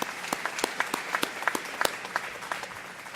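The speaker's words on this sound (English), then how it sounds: "go ahead, let's give her a hand." Audience at an event on homelessness clapping for an honoree, a brief burst of crowd applause with distinct individual claps standing out, moderately loud and without speech.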